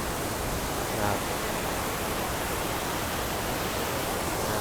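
The Li Phi waterfall in Laos gives off a steady, dense roar of falling water that stays constant and close throughout, with no talk.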